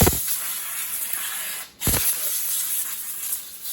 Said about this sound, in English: I also WD-40 the circulation points on it